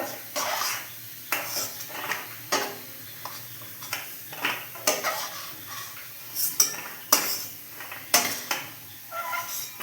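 Vegetables fry in a wok while a utensil stirs and scrapes against the metal in repeated bursts, with a soft sizzle underneath between the clattering strokes.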